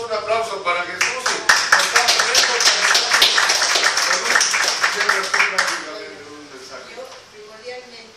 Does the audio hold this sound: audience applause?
yes